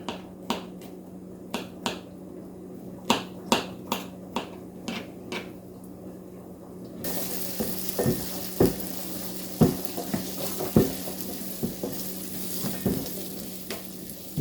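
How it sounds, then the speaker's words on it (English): Onions and garlic frying in a pan, a quiet start with sharp clicks and taps of a utensil, then a loud, steady close sizzle with stirring scrapes running through the rest, no voices. "the onions are cooking down okay, and we'll just keep them going for a little bit longer"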